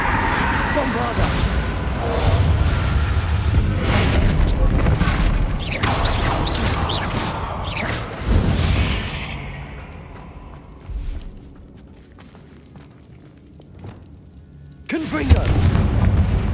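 A Bombarda spell in Hogwarts Legacy sets off a loud, rumbling explosion with clattering debris that fades into a quiet stretch, then another heavy impact bursts near the end.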